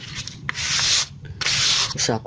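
Two bursts of hand sanding with 1000-grit sandpaper on a clear-coated Dutch teak (jati Belanda) wood finish, each a steady, close, loud scratchy rub lasting about half a second to a second, separated by short pauses.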